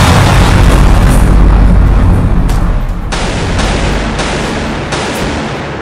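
Loud booms and gunfire crack repeatedly, with several sharp blasts standing out over a constant rumbling din of battle.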